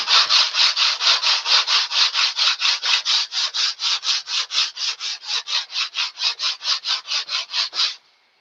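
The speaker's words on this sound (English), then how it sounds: "And while it's still wet, we sand it some more." Rhythmic back-and-forth sanding on wood wet with thin CA glue, about thirty even rasping strokes in a steady fast rhythm, close and clear with no talking, stopping abruptly at the end.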